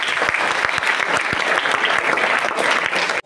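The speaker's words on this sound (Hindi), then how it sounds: "उन बच्चों के लिए आप जोरदार तालियां बजाएं।" Dense, steady applause from a sizable crowd at a school biodiversity quiz award event, loud and sustained with sharper individual claps poking through, cutting off abruptly at the end.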